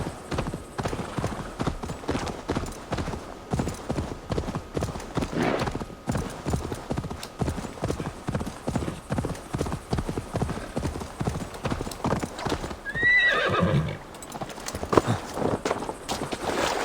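A horse gallops in Assassin's Creed Valhalla, its hooves beating a fast, steady clip-clop rhythm that carries on throughout, with a brief whinny near the end.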